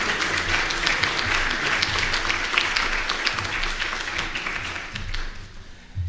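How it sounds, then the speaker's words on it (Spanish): Applause at an engineering conference: a fairly loud round of clapping from the audience, with sharp individual claps standing out, that thins and fades near the end. "despidámoslo con un fuerte aplauso"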